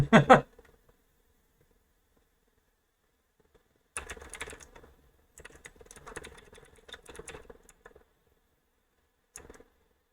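A mechanical computer keyboard clatters in short bursts of typing, a loud opening flurry then scattered runs of crisp keystrokes separated by silent pauses, close up.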